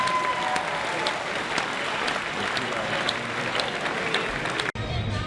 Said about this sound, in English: Can we have a round of applause for Jamie Rittenauer